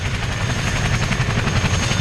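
An Avro Anson Mk.1 flying slowly past at an airshow, its steady, loud propeller drone and engine rumble filling the air continuously without a break.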